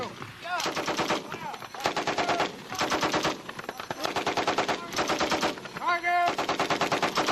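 An M60 machine gun fires on an army training range at Fort Leonard Wood, loud rapid bursts of automatic fire repeating across the stretch with brief pauses between them.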